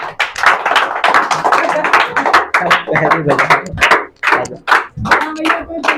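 An indoor audience claps at a self-introduction event, bursts of brisk hand claps rising and falling over about six seconds, fairly close and loud with a few voices mixed in.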